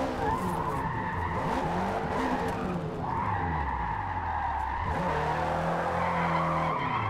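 Tires screech and skid in a sustained, wavering squeal over a racing engine as a car drifts and understeers in Forza Motorsport, the screech easing and swelling again.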